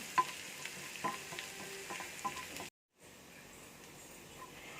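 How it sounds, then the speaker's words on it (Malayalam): Curry leaves frying in hot oil in a pan, a close, steady sizzle with crackling pops that cuts out briefly before resuming, no talking. "ഇതൊന്ന് ഒത്തിരി കരിഞ്ഞു പോവാത്ത രീതിയിൽ ഇതൊന്ന് മൊരിയിപ്പിച്ചെടുക്കണം"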